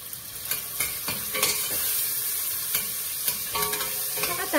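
Onions with turmeric frying in a pan for a pressure-cooker abgoosht, a steady close sizzle broken by repeated scraping strokes of a spoon stirring.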